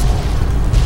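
A dragon's breath round fires from a shotgun in Fallout: New Vegas, a short, heavy booming burst with a deep low-end thump, loud and close with no voice over it.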